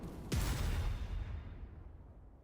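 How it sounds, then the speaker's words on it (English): Explosions in a Genshin Impact cutscene: one loud, close blast with a sharp onset and deep low rumble, fading into a long decaying tail over about two seconds, with no voices. "Explosions."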